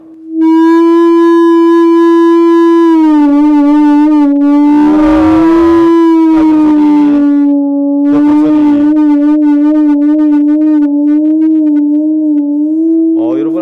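A heated pipe gives a steady, loud pure tone that hums continuously with a slight wavering pitch, while people talk over it in the middle.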